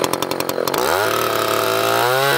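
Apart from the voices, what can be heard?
chainsaw cutting red oak log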